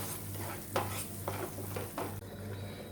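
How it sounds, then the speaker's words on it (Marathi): A spoon stirs spice paste through a colocasia leaf gravy in a pot, with a few distinct scraping strokes against the pan over a steady low hum, close and moderately loud, no voices. "हे पण आपण ह्यामध्ये छानपैकी मिक्स करून घेऊया"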